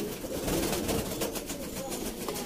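Sialkoti pigeons coo softly through a dense, steady background rumble, the calls blending into continuous noise with no clear voices.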